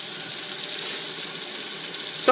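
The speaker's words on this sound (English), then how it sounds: "basically it sprays water down" Water sprays down inside a homemade woodgas wet scrubber, giving a steady, even hiss of falling water like a running tap, with a brief louder clatter right at the end.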